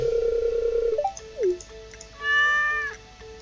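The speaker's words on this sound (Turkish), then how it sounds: "Evet kedimiz geldi." Cat meows from the video game Stardew Valley, a few clear, tonal mews with a rising-falling call, heard over a soft game music tone.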